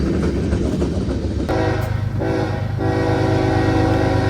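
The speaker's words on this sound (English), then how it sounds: "3 GEs were in charge of the train this evening" A freight train led by three GE locomotives rolls past close by, loud and continuous, with a sustained horn blast joining partway through over the rumble and clatter of the cars.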